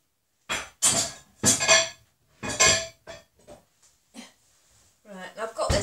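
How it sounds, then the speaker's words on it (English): Metal pans clank and rattle in bursts as one is pulled out of a kitchen cupboard, loud and close, with a few lighter clinks between them and a person talking over the noise. "So I'm going to get myself something that I can cook the fish in"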